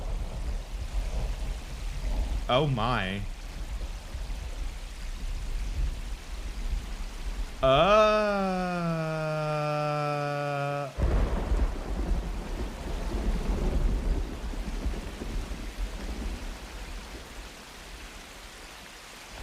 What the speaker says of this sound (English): is a storm coming in?